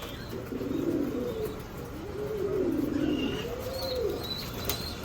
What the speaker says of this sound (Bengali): আমার শীতের শুরুতে কবুতরগুলা সুস্থ আছে